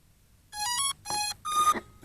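An Ameta S20 Lite brushless beginner drone powering up with three distinct electronic beeps, each a rich tonal chirp of rising pitch, close and clear against near silence.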